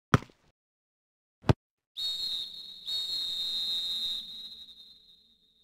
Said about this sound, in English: That's the whistle. Second half is finally starting.